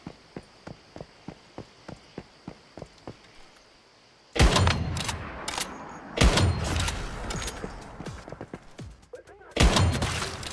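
Loud bursts of gunfire from the survival shooter Once Human, several heavy volleys with brief gaps, following a stretch of quieter, evenly spaced footsteps.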